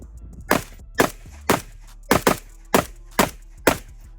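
A short-barreled PSA Krink 5.56 rifle topped with a Holosun sight fires a string of sharp, punchy shots, spaced roughly half a second apart with one quick double, each cracking out cleanly.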